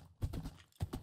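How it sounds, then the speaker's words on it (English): Horse hooves clip-clopping in a survival video game: two soft, muffled bursts of hoof thuds about half a second apart, quiet and close, with no talking. "we have a horse now"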